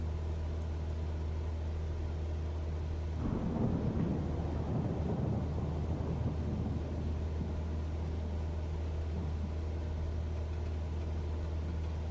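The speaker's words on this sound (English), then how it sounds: "Okay, here comes the rain." Rain starts pelting a Cessna 172 in flight through a storm, breaking into a dense, rattling patter a few seconds in over the plane's constant low engine drone and continuing steadily.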